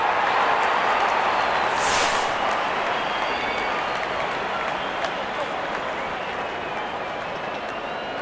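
Cricket crowd applauding a boundary at an England vs Australia match, a dense, steady roar of clapping and cheering that swells briefly near the start, then holds loud and continuous throughout.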